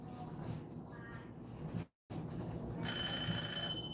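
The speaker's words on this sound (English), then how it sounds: "See, the bell just now ringing." A kitchen timer bell rings out in a home kitchen while lemon cupcakes bake, a bright metallic ringing that starts partway through and sustains loudly over faint room noise.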